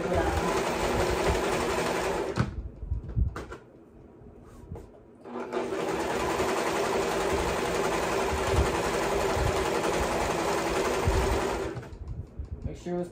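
A serger runs in long continuous bursts, a fast buzzing whir as fabric for a maxi dress feeds through, pausing for a few seconds midway before starting again, with a voice talking intermittently over it.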